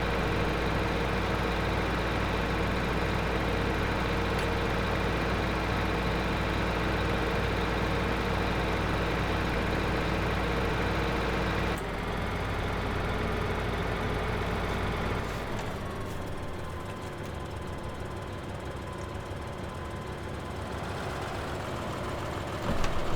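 A tractor engine drones steadily and loudly while driving in the Farming Simulator 2015 video game, its tone shifting partway through as the engine settles into a lower, rougher running sound.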